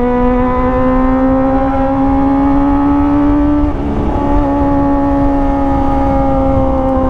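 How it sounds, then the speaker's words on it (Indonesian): Kawasaki ZX25R motorcycle with an Arrow Pro Race exhaust holding a loud, high, steady whining drone while riding, the pitch rising gradually with a brief dip midway, close and continuous. "ketutup sama suara knalpot yang kenceng banget."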